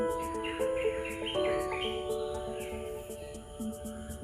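Melodic birdsong with clear tonal whistles and a steady high chirping, layered over a soft ambient jungle background in Kaudulla National Park, Sri Lanka.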